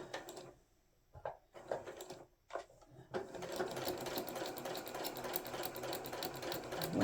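A sewing machine stitches the lining of a Christmas stocking in cream thread. A few short stop-start bursts come first, then a continuous fast whirring run, close and fairly loud, with no talking.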